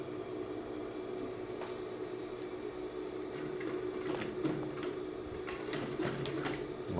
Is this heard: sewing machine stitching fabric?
yes